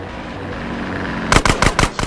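Gunfire in the game GTA San Andreas: after a low engine-like drone, a quick cluster of about five loud, sharp shots lands in the final second, close and unaccompanied by talk.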